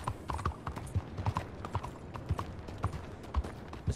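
Horse hooves clip-clop in a steady trotting rhythm in Red Dead Redemption 2, a crisp close-up series of even beats with nothing else over them.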